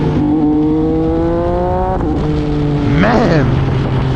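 A 2020 MV Agusta Brutale 800RC motorcycle revs and accelerates on the road, its engine note climbing steadily through the gears with a brief drop and rise, loud and close.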